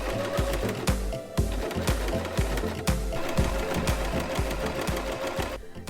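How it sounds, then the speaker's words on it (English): A sewing machine stitches around the edge of a homemade fabric mask, its needle thumping in a fast, even mechanical rhythm with brief pauses and restarts, close and fairly loud. "now it's back over to the sewing machine, and just sew this all the way around the edge again to hold those creases in place"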